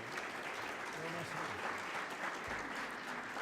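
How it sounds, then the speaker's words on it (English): Audience applause for the panelists at a plenary panel, a steady wash of clapping with some voices underneath, moderately loud and continuous throughout. "How about a round of applause for our excellent panelists?"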